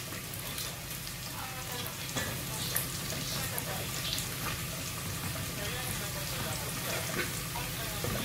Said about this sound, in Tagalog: Kailangan po talaga natin igisa ng maayos itong chicken.